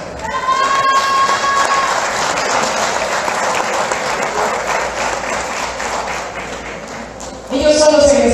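Sustained applause fills a graduation ceremony hall, steady and dense through the whole stretch, with a brief tonal sound early on and a louder surge of clapping near the end.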